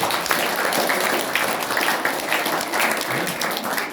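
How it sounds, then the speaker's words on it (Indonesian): A crowd claps in sustained, dense applause at a church worship service, loud and continuous for several seconds. "Tepuk tangan aja untuk Tuhan Yesus."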